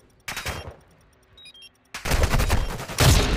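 Sniper rifle shots ring out in a Call of Duty tournament match: a loud crack near the start, then a heavy burst of gunfire from two seconds on, with another sharp shot near the end, all without voices.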